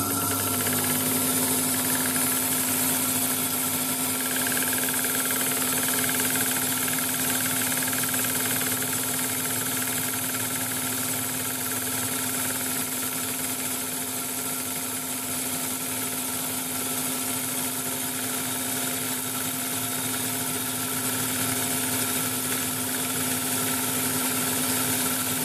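A fly cutter takes a light, dry cut across metal trigger frames, giving a steady, close mechanical whir with a constant humming tone that runs unbroken for the whole stretch, with no voices.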